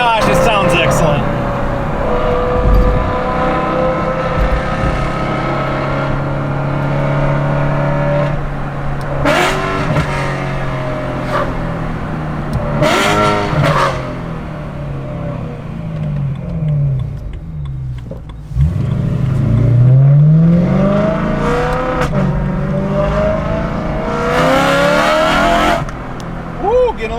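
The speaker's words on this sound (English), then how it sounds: "Can you hear that exhaust? Oh my gosh, it sounds excellent." A Liberty Walk BMW E92 M3's exhaust roars and revs repeatedly, rising and falling in pitch, loud and close, with someone talking over it.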